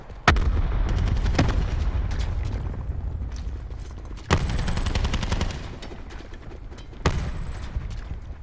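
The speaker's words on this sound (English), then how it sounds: "Oh, I just dropped a grenade over there" Loud gunfire and explosive booms from a Nuketown round in a shooter video game, with three sharp blasts at intervals over a constant roar of in-game combat noise.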